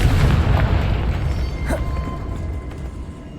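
A Confringo fire-blast spell from Hogwarts Legacy gives a deep booming explosion that opens loud and rolls away into a rumbling tail, with a brief sharp burst partway through and no talk.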